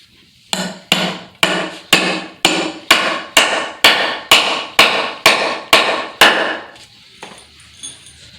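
Nails are hammered during a spa remodel in a quick, regular series of about thirteen loud, close strikes that stop abruptly, leaving faint background noise.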